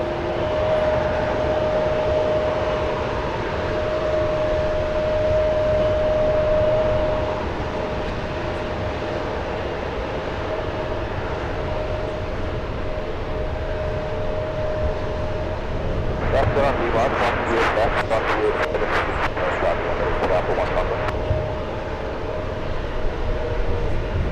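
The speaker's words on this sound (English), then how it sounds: "There you go, clear for takeoff. CRJ, clear for takeoff." A CRJ regional jet at San Francisco International Airport, a steady broad engine roar with a faint tone running throughout and a rattling burst partway through, with a voice talking over it.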